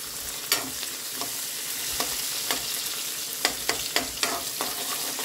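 Cashews fry in a pan for semiya upma, giving a steady close sizzle broken by light scraping stirs that grow more frequent toward the end.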